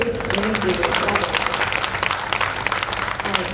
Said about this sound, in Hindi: एक बार ताली हो जाए इस।